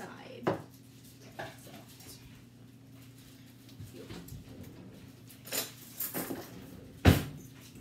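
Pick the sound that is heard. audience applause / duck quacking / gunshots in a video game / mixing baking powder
mixing baking powder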